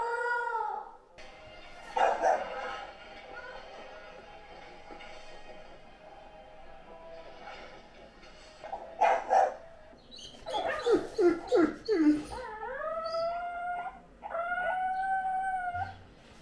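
A Great Dane howls in long, wavering cries, then breaks into a burst of quick barks before howling again, close and fairly loud against a quiet room.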